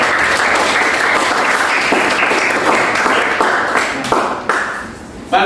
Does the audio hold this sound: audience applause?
yes